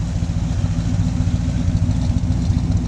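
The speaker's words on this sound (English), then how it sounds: "This motor wraps real quick." A 1951 Chevy custom with a 383 stroker V8 and dual Dynaflow mufflers runs with a loud, steady, low engine rumble throughout.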